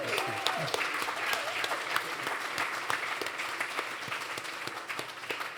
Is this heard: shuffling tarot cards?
no